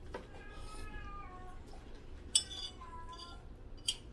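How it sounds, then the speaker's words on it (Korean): Several cats meow nearby in quiet, drawn-out, wavering calls, with light clinks of dishes and cutlery in the background. "고양이들."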